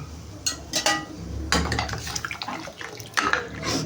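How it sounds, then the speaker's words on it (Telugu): Boiled goat trotters tipped with their cooking water into a pan of masala for mutton paya curry, heard as several close splashing pours and clinks of a pot or utensil, loud bursts with brief quieter gaps, no talking. "ఇప్పుడు మనం ఉడికించుకున్నాం కదా పాయ, దాన్ని అయితే వేసుకునేయాలి"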